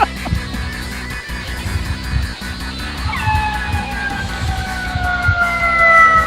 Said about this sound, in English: Sirens are going off as they go over the balls.